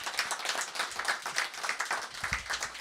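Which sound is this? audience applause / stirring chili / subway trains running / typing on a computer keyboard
audience applause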